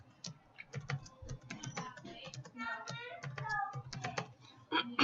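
Rapid key presses on a computer keyboard as a password is typed, an uneven run of quick clicks with brief pauses, fairly close and moderately loud, with no talking.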